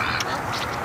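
Ducks quack by a lake, steady and close, with a few sharper calls rising over a continuous background of noise.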